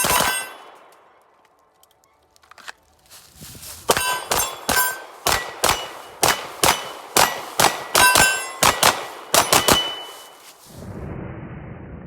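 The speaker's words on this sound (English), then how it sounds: "So I'll work in some video here of me shooting it, and you guys can get an idea of what that recoil is like." A CZ Shadow 2 Optics Ready pistol fires a string of about fifteen sharp, loud shots at a quick, steady pace with ringing metallic tails, followed by a low rumble of background noise.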